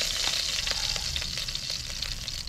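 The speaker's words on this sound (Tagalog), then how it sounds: "So magisa na nga tayo ng bawang." Garlic sizzles and fries in a hot pan, a steady close crackle with occasional stirring scrapes, alone without talk.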